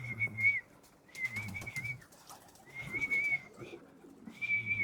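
Pigeons in a backyard loft coo softly in repeated low, throaty bursts, several rounds in a row, fairly quiet and close with short pauses between calls.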